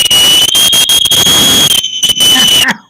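A loud, sustained high-pitched whistle blown over a ham radio net, held for nearly three seconds with choppy breaks, ending abruptly.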